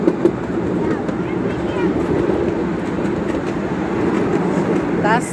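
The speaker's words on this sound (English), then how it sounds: "this is the Old Smoky train at knoebels" The Old Smoky amusement-park train at Knoebels rumbles along steadily with a continuous rolling clatter of wheels on track, heard from on board, with faint voices and brief squeaks over the run.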